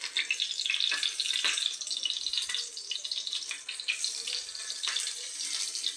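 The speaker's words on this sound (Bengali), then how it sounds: "দেখো পকোড়াগুলো আমি ভাজছি" Pakoras bubble and hiss as they deep-fry in hot oil, a bright, continuous crackling sizzle that rises and falls slightly over a few seconds.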